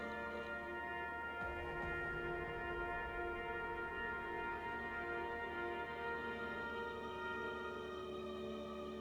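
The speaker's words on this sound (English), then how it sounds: "that sounds like just straight up a train horn" Train horn in a survival video game, a loud, steady sustained blast holding its tone for the whole stretch without a break.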